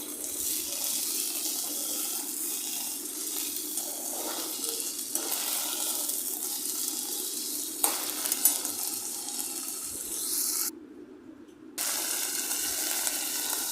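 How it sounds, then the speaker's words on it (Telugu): Mint leaves deep frying in oil for a mint chutney make a steady, hissing sizzle that carries on evenly at moderate loudness, cutting out briefly near the end before resuming, with no talking. "పుదీనా లీవ్స్ కూడా ఒక ఫైవ్ మినిట్స్ ఆయిల్లో డీప్ ఫ్రై చేయాలి"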